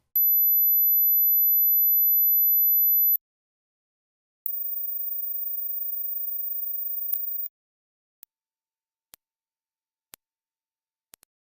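Hearing test tones above 8,000 Hz: a steady, very high pure tone lasts about three seconds, then a second, even higher tone follows after a pause, and a few faint isolated ticks finish the sequence.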